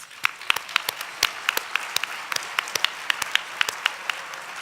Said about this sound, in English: let's all give each other a round of applause